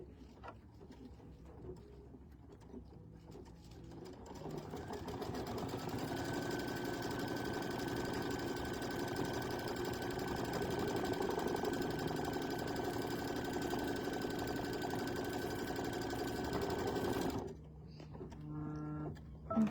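A sewing machine stitches a fabric mug rug, whirring steadily and loudly for about twelve seconds after a quieter start, then stopping abruptly, followed by brief faint clicks.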